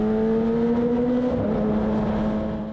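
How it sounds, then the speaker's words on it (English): A Kawasaki ZX10R superbike engine idles close by in a steady, loud drone at a constant pitch, easing slightly toward the end, with no voices. "God, this bike sounds good."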